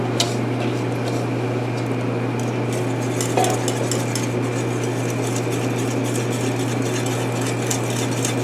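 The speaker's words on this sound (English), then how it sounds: "Give it a good stir." Turkey gravy simmering in a pot is stirred steadily with a utensil, giving a continuous scraping swish over a low steady hum, with no talking.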